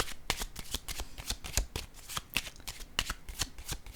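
Small oracle cards being shuffled by hand, with soft riffling flicks and taps repeating in an irregular rhythm, close and quiet.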